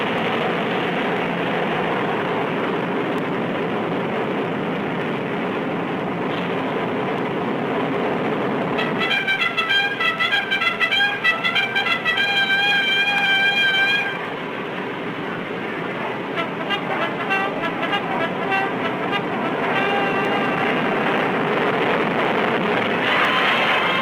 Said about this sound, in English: This 100-ton giant is airborne. Notice its phenomenal rate of climb.